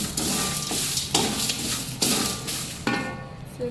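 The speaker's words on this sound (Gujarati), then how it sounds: "તેલમાં શેકવાનું ધાણી" Coriander seeds roasting in hot oil in a pan for homemade dhana-jeeru spice mix, a steady crackling sizzle broken by several stirring scrapes spaced about a second apart, fairly close.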